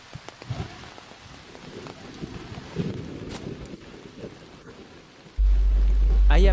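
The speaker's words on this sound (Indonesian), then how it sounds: "Hujan semakin deras dan malam semakin turun" Heavy rain pours steadily through the Amazon forest, a dense broadband hiss with a few louder gusts and rumbles, ending in a sudden loud surge of noise.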